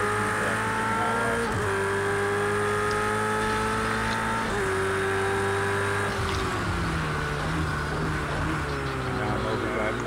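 A race car engine in a racing video game revs and shifts through gears, pitch climbing and dropping in repeated steps, loud and close, with someone talking over it.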